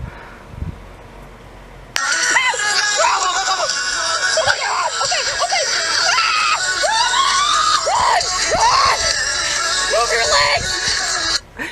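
Several people scream excitedly and loudly while buying BTS tickets. A brief quiet moment gives way to a sudden burst of shrill, overlapping shrieks that rise and fall together for about ten seconds before cutting off.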